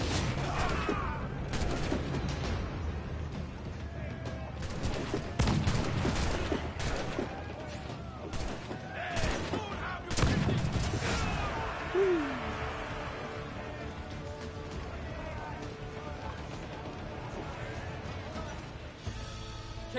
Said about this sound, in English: Alright, kill 3 pirates with a swivel gun.